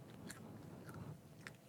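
Someone quietly chews and crunches chickpeas close up, soft irregular bites with a few sharper crunches over a low, steady background hiss.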